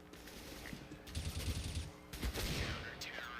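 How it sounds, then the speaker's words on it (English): Rapid bursts of gunfire in a competitive Counter-Strike-style shooter match at a tournament, with pistol fire and mechanical clicks, heard under an excited commentator. "Deagle coming out from Warden"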